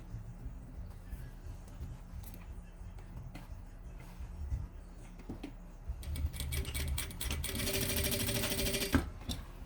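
A sewing machine stitches a luxury toiletry bag in a run of quick mechanical rattling that builds toward the end and stops abruptly. It is close, with soft handling noises before the stitching and no talk.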